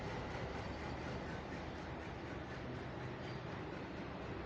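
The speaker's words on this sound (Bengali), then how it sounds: "এই যে দেখে নাও হাওড়া এক্সপ্রেস এখন আছি আমরা হচ্ছে আহমেদাবাদে" A Howrah-bound superfast express at Ahmedabad station rumbles as one steady, loud, dense roar heard from on or beside the train, with no distinct clacks or voices.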